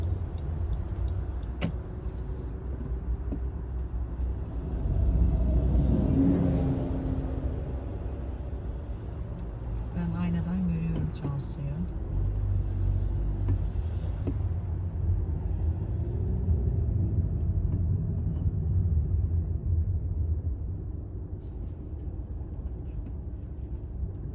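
Steady road traffic and a car's own engine hum while climbing an uphill ramp in city driving, a continuous low rumble with passing vehicles swelling and fading, no talk.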